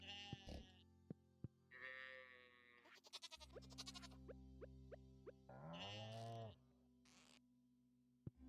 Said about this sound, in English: I actually thought that sheep was a goat.